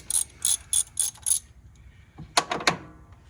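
A ratchet wrench loosens a 17 mm banjo fitting on the power steering pump of an NC Mazda Miata, giving a quick run of five sharp clicking bursts and then a louder cluster of clicks as the fitting breaks free, close up and alone.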